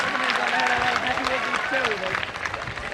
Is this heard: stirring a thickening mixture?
no